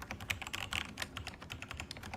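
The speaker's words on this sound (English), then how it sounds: "distracted by the typing" Someone types on a computer keyboard with a quick, irregular patter of soft key clicks. The sound is faint and close, with no talk over it.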